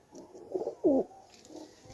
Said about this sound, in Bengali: তো চলো বন্ধুরা, কোন কোন পায়রাগুলো ওড়াবো একটু ছেড়ে দিই।